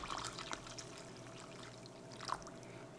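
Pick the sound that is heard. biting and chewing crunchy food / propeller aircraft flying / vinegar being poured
vinegar being poured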